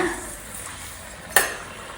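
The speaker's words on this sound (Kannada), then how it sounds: "ಈಗ ಈ ಪೂರಿನ ಹಾಕ್ಬಿಟ್ಟು ಕರಿಯೋಣ" A rice flour poori drops into hot oil in a home kitchen, a brief burst of sizzling over a soft steady bubbling background, close by, no talking.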